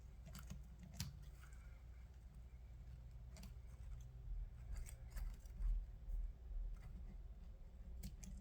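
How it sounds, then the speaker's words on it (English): Scissors snipping at a wet onion, giving soft, squishy clipping sounds in scattered bursts, close up and quiet, with no talking. "It's a little too wet for the scissors."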